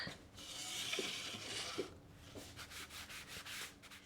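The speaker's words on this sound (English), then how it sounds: "gonna take our 60 grit sandpaper and just stress the snot out of those letters" Wood-burned pine letters are scuffed with 60 grit sandpaper: close, fairly quiet rasping strokes, one long pass and then a run of short rhythmic back-and-forth rubs, with no voices.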